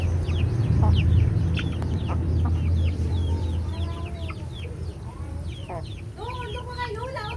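Hens, including a mother hen, cluck repeatedly in a busy chorus, close by, with some low background rumble and a few people talking faintly.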